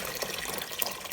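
Tap water pouring steadily into a big cooking pot for a seafood boil, a close, continuous splashing rush with no voices over it.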